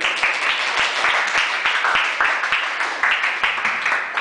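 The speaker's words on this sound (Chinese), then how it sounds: "掌声鼓励鼓励" Dense, steady applause from a group, with many overlapping hand claps and sharp individual claps standing out, continuing at even loudness without a break and no voices over it.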